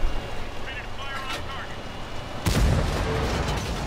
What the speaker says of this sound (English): I'm just gonna fire my shells